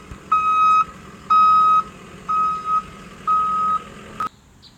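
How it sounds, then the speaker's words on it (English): A big truck reverses close by, its backup alarm sounding loud, steady, evenly spaced beeps, four full tones and a clipped fifth, before cutting off into quiet rumble. "Good time to have a big ass truck backing up right next to you"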